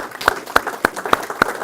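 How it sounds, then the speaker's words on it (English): Five sharp claps in an even rhythm, close and distinct, like a small burst of applause at a press conference introducing a new head men's basketball coach. "So let's give him a round of applause"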